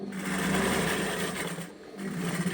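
A sewing machine stitches the shoulder seam of a dress, a fast continuous mechanical chatter heard up close and alone for a couple of seconds with a slight dip in speed near the end.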